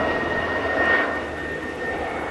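Sukhoi S-80 aircraft flying at the MAKS 2005 air show, a steady distant engine drone with a sustained whine, fairly faint and continuous, swelling slightly midway.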